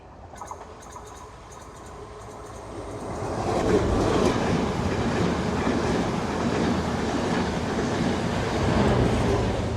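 A train passes at Paranthan railway station in Sri Lanka on the line toward Jaffna, starting quiet, then rumbling in loudly at close range with rattling wheels and clatter that continues steadily to the end.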